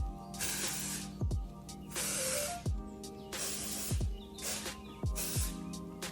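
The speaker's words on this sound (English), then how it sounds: "I'm gonna shake it up and I am going to spray kind of at the root." Amika dry shampoo sprayed at the hair roots: four close, loud hissing aerosol bursts, each about a second long, separated by short pauses, with faint background hum.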